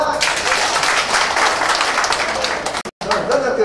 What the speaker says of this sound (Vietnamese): Và chúng ta có thể chúc mừng anh cháu bằng một tràng pháo tay được không ạ?